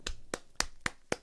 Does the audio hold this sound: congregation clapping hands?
yes